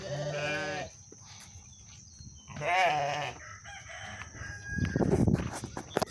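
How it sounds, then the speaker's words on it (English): Farm animals on a small farm with chickens and five sheep: a rooster crows, sheep or goats bleat, and more calls come from a moderate distance. No voices are heard. "it's only gonna be chickens and 5 sheep."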